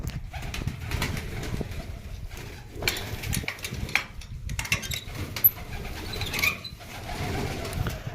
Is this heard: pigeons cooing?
yes